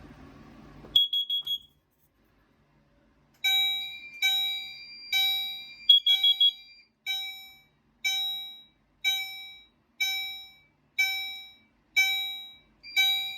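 A high electronic alarm from a fire alarm system device, Potter PFC 4064 panel with EST and Mircom devices under test, beeps in a steady, rapid series of bursts, loud and close, after a short initial chirp and a pause.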